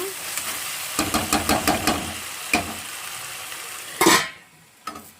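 A spoon stirs tomato and potato curry in a pan, giving a series of quick scraping strokes and clinks against the metal over a soft sizzle, with a louder scrape near the end.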